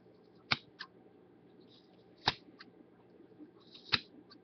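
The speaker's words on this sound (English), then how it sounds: "you're going to take your scissors, and you're going to start cutting at the top of the loop" Scissors snip through wrapped yarn loops for a pom pom, three sharp close cuts spaced about two seconds apart, each followed by a softer small snip, over quiet background.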